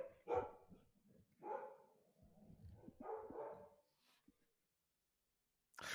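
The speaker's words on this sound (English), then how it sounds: "Now that my dogs are stopped barking." Dogs bark indoors, three separate woofs spaced about a second apart, moderately loud. A faint whimper follows, then a short silence.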